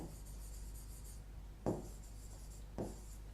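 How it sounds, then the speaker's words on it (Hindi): A teacher writing answers by hand during a grammar lesson, soft scratchy pen or chalk strokes with two sharper taps, quiet and close, no talking. "मैं आंसर्स लिख रही हूं।"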